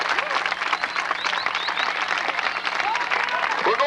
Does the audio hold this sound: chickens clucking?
no